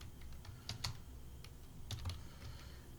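Keys tapped on a computer keyboard while entering an expense label in Tally Prime accounting software, a few quiet scattered clicks in short bursts over low background hum.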